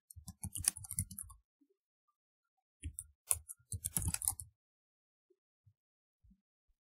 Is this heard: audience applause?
no